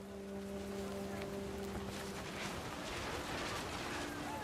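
Heavy rain pouring down in the video game What Remains of Edith Finch: a continuous, even hiss of downpour, with faint steady tones in the background that fade partway through.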